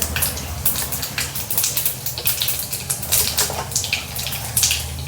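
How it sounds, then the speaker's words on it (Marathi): Dense crackling and popping of mustard seeds spitting in hot oil rattles on continuously at close range with a sizzling hiss underneath. "तेल गरम झालं आहे त्यात मोहरी टाकूयात मोहरी तडतडली की जिरे तडतडून घ्यायचे"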